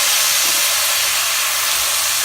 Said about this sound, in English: Now we'll add the tomatoes.